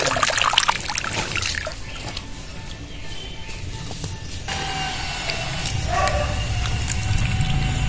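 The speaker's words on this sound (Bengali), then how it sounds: "প্রথমে জল দিয়ে দিচ্ছি এমনভাবে জল দিতে হবে আলুগুলো যেন জলে ডুবে থাকে" Water poured from a container over sliced raw potatoes in a bowl for chips, a steady trickling and splashing that shifts partway through, close and moderately loud with no talking.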